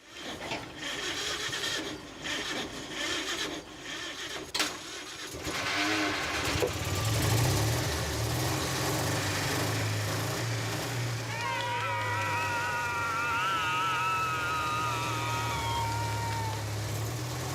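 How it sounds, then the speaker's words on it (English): Engine at a French château jumpstarted with cables from a van, cranking in irregular bursts and then catching into a steady low rumbling idle that carries on, with a whining note and people talking around it. "Shane hooks up some cables to jumpstart the engine from his van."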